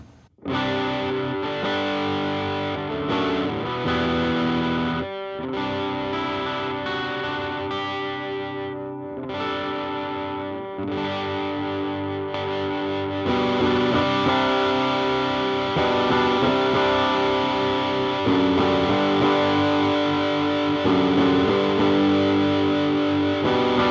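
Electric guitar played through a Ground Control Blood Oath distortion pedal, thick saturated chords and riffs ringing steadily and loud, no talking.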